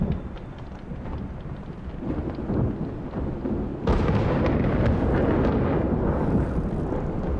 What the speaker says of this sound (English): Thunder. A bad omen.